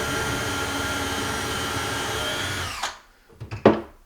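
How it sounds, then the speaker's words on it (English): A power drill bores a guide hole for a screw during cabinet and flooring work in a tiny house, a steady close whine that stops abruptly near the end, followed by a few short clicks and knocks. "the first drill bit we're going to use is just a guide for the hole, so it makes sure that the screw is going to go in straight"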